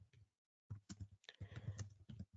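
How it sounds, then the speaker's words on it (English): Quick, close bursts of typing on a computer keyboard, with clustered key clicks separated by a brief pause, soft and alone. "Let me type it for you."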